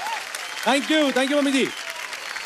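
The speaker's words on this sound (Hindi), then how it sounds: "जोरदार तालियां" Studio audience applause on a televised dance competition continues as a steady background wash while a voice speaks briefly over it in Hindi.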